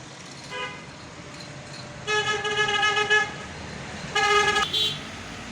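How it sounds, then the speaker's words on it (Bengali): Car horns honk on a busy road, a short toot followed by two longer blasts over a steady background rumble of passing traffic. "দেখতে পাচ্ছেন একেবারে ব্যস্ত রাস্তা"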